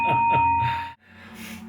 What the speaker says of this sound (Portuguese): Ao sininho!